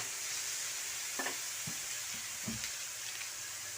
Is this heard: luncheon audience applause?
no